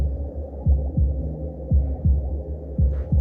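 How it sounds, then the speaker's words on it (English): Recorded womb sounds play as a low droning hum with a steady, throbbing heartbeat-like pulse, roughly two beats a second, close and fairly loud. "My favorite is 60 minutes womb sounds."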